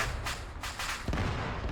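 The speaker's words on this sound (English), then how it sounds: "there are explosions everywhere" Explosions and artillery fire in the video game Arma 3 during a base attack, several separate booms a fraction of a second apart, fairly faint and distant-sounding over a low background rumble.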